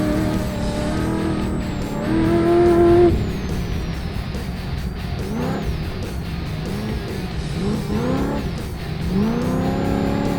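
A muscle car with a big-horsepower V8 mounted at the rear, a high-stall converter and a sequential transmission drives past loud and near, its engine note rising and falling through the gear changes, with a short sharp squeal partway through.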